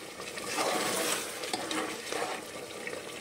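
About a cup of water is poured into a dhaba-style chicken curry while it is stirred, a steady splashing, bubbling wash close up that continues throughout.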